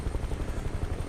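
Helicopter in Microsoft Flight Simulator, its rotor thumping in a fast steady pulse with a constant low drone, close and unbroken.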